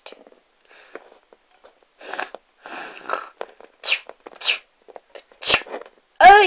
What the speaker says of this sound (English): Oh, you sneezed in my paw.